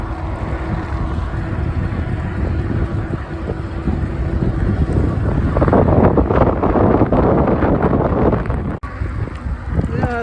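Strong cold wind roars and buffets steadily across the microphone while riding an Ecotric fat tire ebike, a loud continuous rush that swells further midway with gusty turbulence.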